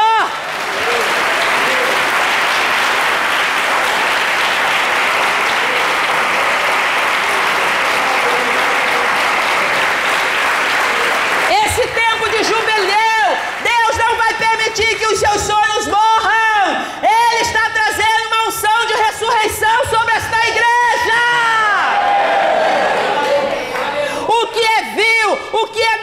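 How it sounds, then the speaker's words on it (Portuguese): Church congregation bursts into sustained loud applause and cheering for several seconds, then the clapping gives way to music with strong tonal lines that carries on to the end. "Aplauda ao Senhor!"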